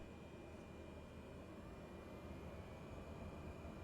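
Engine of a Cessna 208B in the Microsoft Flight Simulator game drones at the terminal before takeoff, a faint, steady broadband hum with no change and no voices.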